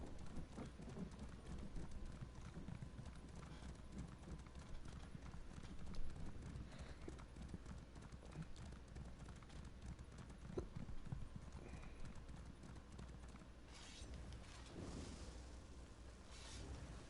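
Horse hooves clip-clop steadily at a gallop in the Elder Scrolls Online game, a continuous rhythmic patter under game ambience and combat effects, with occasional faint voices.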